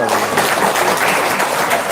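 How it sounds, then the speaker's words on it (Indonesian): A dense burst of audience applause, loud and continuous for a couple of seconds, with a faint voice mixed in. "Tepuk tangan dong."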